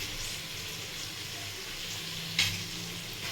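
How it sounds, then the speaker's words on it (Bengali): Baby corn with green chilli sauce and tomato sauce is stirred in a pan, with a quiet, continuous sizzle and one brief sharp clink partway through, and no talking. "এবার এটাকে একটু নাড়াচাড়া করে নিচ্ছি"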